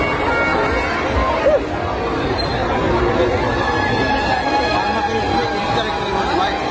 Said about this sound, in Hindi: बहुत बुरा भीड़ है यार